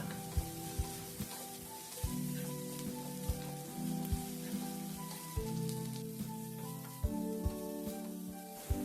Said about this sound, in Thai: พอหอมสุกแล้วเราก็ใส่ขมิ้นตามลงไปผัดค่ะ ผัดจนหอมนะคะ